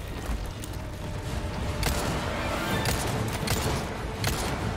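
A burst of gunfire from the Resident Evil 4 Remake final boss fight, with several sharp loud shots and booms scattered over a dense, noisy background and no talk over them.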